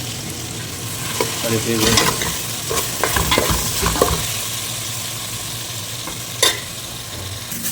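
Potatoes, chicken, tomato and ginger garlic paste fry in a pot for chicken dum biryani, crackling with a steady sizzle under repeated scraping stirs and clanks, with a few brief spoken words.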